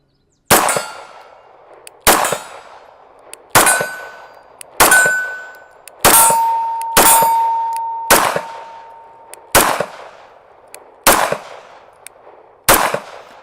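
An HK P30 9mm pistol fired in double action at a steel target outdoors, about ten sharp shots at uneven intervals, each crack followed by a ringing metallic clang from the steel plate, some clangs sustaining a tone.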